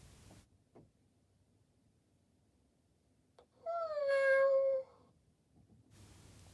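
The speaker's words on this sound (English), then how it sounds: "it goes back to the mournful meow again" A Joy For All robotic companion tabby cat toy lets out a single drawn-out, mournful electronic meow lasting about a second, in an otherwise quiet room with faint clicks before it.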